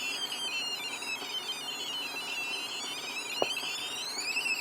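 Snap Circuits alarm integrated circuit sounding a steady, fairly quiet electronic siren tone whose pitch sweeps up and down continuously, with one brief click partway through.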